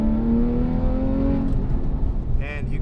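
A Porsche 911 Carrera S with a TechArt exhaust revs in sport mode, its engine note climbing smoothly over a couple of seconds and then settling into a deep rumble close to the microphone.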